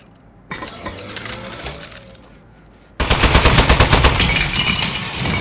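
Turret firing in the video game Aperture Desk Job: a quieter mechanical whir and clatter first, then an abrupt, loud, sustained rapid-fire barrage of closely spaced shots with no talking.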